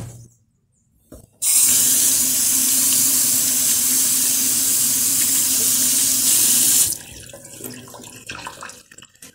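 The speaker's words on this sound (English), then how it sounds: "I am also going to wash my rosemary." Tap water runs steadily into a kitchen sink for about five seconds while fresh rosemary is washed, loud and close, then cuts off, leaving faint handling sounds.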